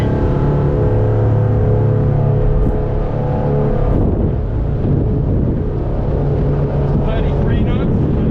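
A SAY 42 yacht-class speedboat running at about 35 knots through a tight turn: loud, steady engine drone mixed with rushing wind and water, close to the microphone, with people talking over it.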